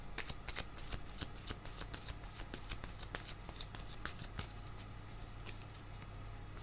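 Tarot cards are shuffled by hand in quick, quiet repeated riffles and flicks, close and soft, with no voices.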